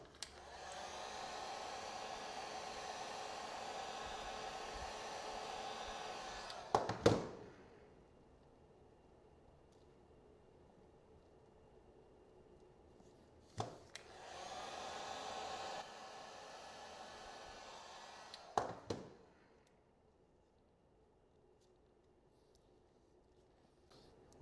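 Hot air gun heating lightweight plastic on a helmet part to bend it: a soft steady blowing hiss in two separate bursts, each ending with small clicks and knocks, quiet pauses between.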